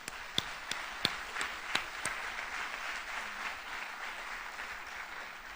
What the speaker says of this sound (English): Let's just give them a round of applause for being with us